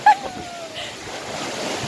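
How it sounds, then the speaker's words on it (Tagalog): Ocean surf rolls in at a beach during a holiday outing, a broad, steady wash of waves with wind noise hitting the microphone. A short sharp sound comes at the start. "Nakakatakot ang alon."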